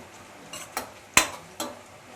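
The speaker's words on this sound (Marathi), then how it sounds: "यामध्ये ना आपण मसाले घालूया हा घरगुती लाल मसाला आणि थोडीशी हळद घालूया थोडंसं परतून घेऊया" Spatula or spoon scraping and knocking in a pan as onion, tomato and masala are stirred for pomfret sukka, with a few separate clanks about a half second apart, the sharpest one in the middle, and no sizzle standing out.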